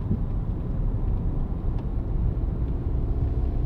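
A race car at a French rally event rolls along with a steady low engine and road rumble, close and continuous, no distinct gear changes or tire noise standing out.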